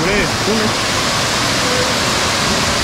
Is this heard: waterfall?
yes